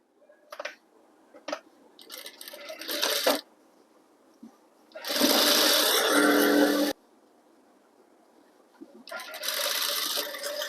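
Domestic sewing machine stitching the side seam of a school uniform, running in three bursts: short broken runs, then a steady two-second run, then another sustained stretch after a pause, fairly close with no talk.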